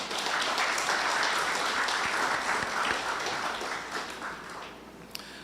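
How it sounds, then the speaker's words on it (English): An audience at a North West Regional Health Authority public board meeting applauds hospital staff with steady, dense clapping throughout, easing slightly toward the end. "I want a round of applause for my staff."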